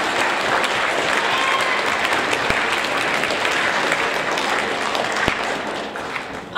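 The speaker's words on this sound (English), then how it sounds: "So let's give all of them a round of applause." A school audience at a 7th grade awards ceremony gives sustained, dense applause, many hands clapping steadily in a hall for several seconds.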